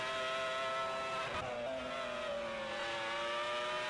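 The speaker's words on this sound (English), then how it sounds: "Going through Worth curve now. Turn 7. Gear 6. Honda engine screaming." A Honda Formula 1 engine in a racing video game at the Austrian Grand Prix screams at a steady high pitch through a sixth-gear corner, sustained and continuous with a brief dip in the middle.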